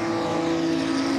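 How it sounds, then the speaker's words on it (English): A Porsche Carrera Cup race car at Le Mans weaves to heat its Michelin tyres, its engine a loud steady droning whine that holds a constant pitch with slight fluctuations. "There is the 555 car right at the back for Julien Anderlet, warming his Michelin tyres."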